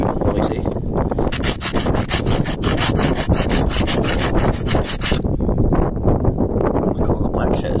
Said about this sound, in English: Just to demonstrate how quickly this rub brick is wearing down.